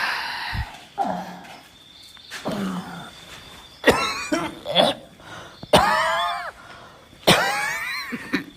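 Several loud, harsh coughs burst out at irregular intervals, close to the microphone, with quieter throat sounds and voiced noises between them.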